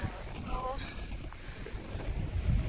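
Gusty wind buffets the microphone with a low, continuous rumble, while a voice speaks briefly early on.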